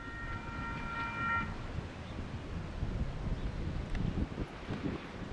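Long double-stack freight train passing on a windy day, a dense low rumble of rolling cars with a brief distant horn tone early on and wind buffeting the microphone.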